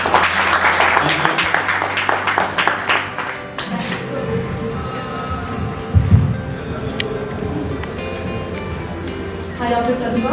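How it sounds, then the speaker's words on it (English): A round of audience applause for an author and poet taking the stage at a lounge book discussion, dense for the first few seconds before dying away into background voices and room noise. "Once again, we can have a round of applause,"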